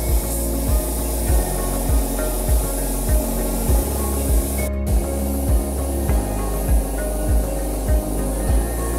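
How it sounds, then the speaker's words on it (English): Red spray paint hisses onto a dilapidated metal gate in close, loud, steady bursts with a regular pulsing rhythm and one brief break midway. "When spraying paint, make sure to apply it evenly so that every area is uniformly covered."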